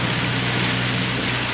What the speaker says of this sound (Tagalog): Masyado malakas yung ulan dito sa Metro Manila.